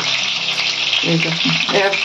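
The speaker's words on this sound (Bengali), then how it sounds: "মাছটা আমার ভাজা হয়ে গেছে। মাছটা আমি তেল থেকে তুলে নিচ্ছি।" Rohu fish fries in hot oil in a pan, a loud steady sizzle with bubbling crackle close up, shifting slightly as the pieces are lifted out, with a voice talking faintly underneath.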